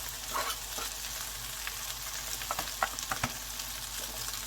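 Garlic and herbs frying in a sausage pasta pan give a steady sizzle, with a few soft stirring clicks and scrapes near the end and no talking.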